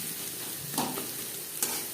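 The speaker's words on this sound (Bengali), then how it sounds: "তিনটে পেঁয়াজ কুচি করে অ্যাড করলাম" Three chopped onions hit hot oil in a wok, giving a steady close hiss and crackle with two brief louder spatters from stirring.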